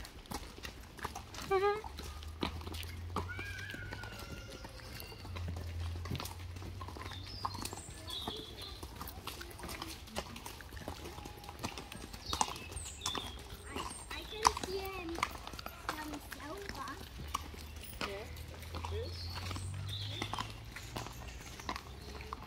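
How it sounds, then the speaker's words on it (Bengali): A long-haired horse walks along a path beside a river near a waterfall in Linn Park, Glasgow, its hooves clip-clopping steadily and fairly close while people talk nearby. "Horse."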